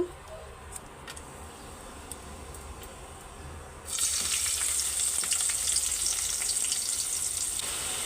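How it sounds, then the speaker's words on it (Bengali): Fish frying in oil for a curry, a steady close sizzle that jumps sharply louder partway through and then holds as a dense crackling hiss. "তরকারি রান্নার জন্য মাছটা ভাজতে দিয়ে দিলাম"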